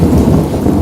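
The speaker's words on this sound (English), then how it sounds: "Mate, the rain is coming in." Rain rolling in over a 200-acre calf farm, a loud, dense low rumble of thunder and heavy rain, steady and close for the whole moment without talk.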